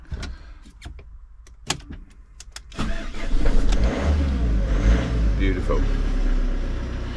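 A motorhome engine cranks and fires straight away after a jump start, with clicks and switch sounds first, then a steady loud idle rumble close by as a person speaks briefly.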